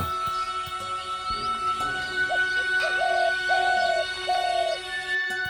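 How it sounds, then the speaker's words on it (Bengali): Soft hooting bird calls repeat several times from a distance on a hill in Bandarban, Bangladesh, drawn-out tones over a quiet, airy background. "শুধু দূর থেকে পাখির ডাক"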